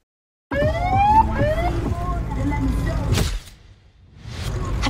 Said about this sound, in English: Have you guys considered a bassier siren sound?